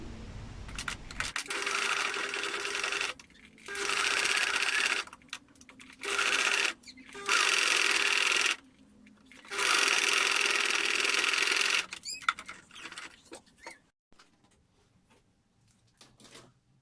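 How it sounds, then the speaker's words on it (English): Sewing machine top stitching fabric for warm winter indoor socks, running in several steady bursts separated by short pauses, then fading to quiet handling noises at the end. "Then I went on to top stitch."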